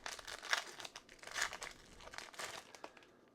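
A Duskmourn card booster pack wrapper is crinkled and torn open up close, with bursts of crackling foil at an uneven pace and no talking over it.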